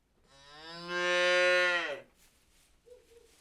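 A young bull calf on a farm lets out one long, loud moo that rises and then falls away, followed by a shorter, softer low call.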